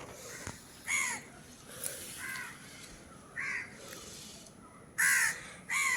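A crow caws in a yard where rice is set out for it, giving about six separate harsh calls spaced irregularly over a few seconds, moderately near against a soft outdoor background.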